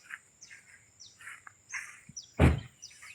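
Faint, scattered bird chirps repeat in a quiet morning riverside village setting in Pontian, Malaysia, with one dull thump partway through.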